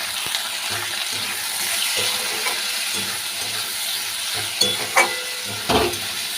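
Spice paste for an oyster curry fries in a pan, a close steady sizzle with rhythmic stirring scrapes and a few sharper clinks of the spoon against the pan.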